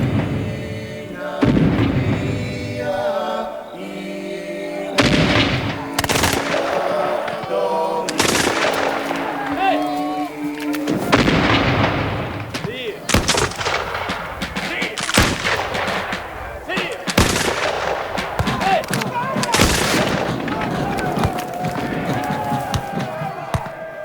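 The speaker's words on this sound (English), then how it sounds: "Then, they poured heavy artillery into the fortress." Heavy artillery fire pounds the Louisbourg fortress during a siege, heard as a dense, loud succession of booming blasts and sharp cracks at irregular intervals, with rumbling overlapping impacts filling the whole stretch.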